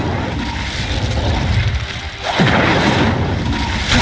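A loud, dense burst of the Incendio fire spell in Hogwarts Legacy roars out with a booming crash and a brief sweeping whoosh, followed by sustained rushing flame noise.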